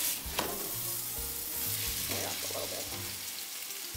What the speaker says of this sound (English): I'm cooking this, it's sizzling in olive oil.